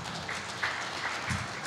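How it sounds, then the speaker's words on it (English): Audience applause for presenters at the close of a streetcar panel discussion in Erie, a soft, dense wash of clapping lasting under two seconds, fairly quiet and distant. "let's have a round of applause for our presenters once again"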